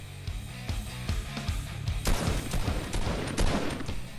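Rapid gunfire in the Fortnite video game, a sniper rifle among the weapons, with repeated sharp shots and a dense burst of overlapping fire midway, loud and continuous throughout.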